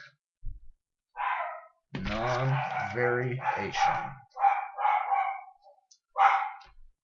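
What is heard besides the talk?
dog barking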